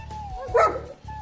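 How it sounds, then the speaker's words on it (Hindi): A Bully Kutta dog gives a single loud bark or yelp at close range, standing out briefly over a low, steady background hum. "इस कुत्ते के ऊपर इतने लोग लगते हैं टाइगर के ऊपर भाई"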